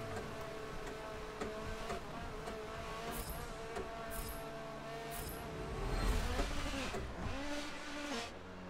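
A full race car engine in Forza Motorsport 7 on a wet track, a steady mid-distance drone that rises and falls through gear shifts and surges louder toward the end.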